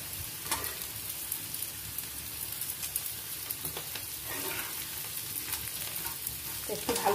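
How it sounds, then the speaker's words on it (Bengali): Gobindobhog rice fried together with potato and peanuts in a pan, a continuous crackling sizzle broken by frequent scraping stirs, close and with no speech. "আলু আর বাদামটা ভাজা হয়ে গেছে, এবার আমি গোবিন্দভোগ চালটাও ভেজে নেব।"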